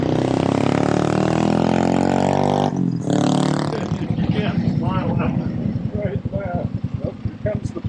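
A 1954 Harley-Davidson KH 750 motorcycle engine runs loud and close with a steady harmonic drone, then cuts off abruptly, leaving people talking over a low rumble.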